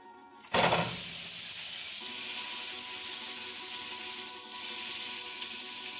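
Italian sausage is dumped into a hot pan and bursts into a sudden loud sizzle, then settles into a steady close hiss and crackle, with no one talking over it.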